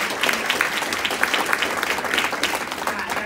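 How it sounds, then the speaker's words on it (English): A crowd claps steadily in dense, sustained applause, with no voices over it. "So if we can just give them a round of applause."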